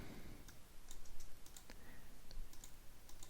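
Quiet typing on a computer keyboard, a scattering of light key clicks at an uneven pace against faint background hiss.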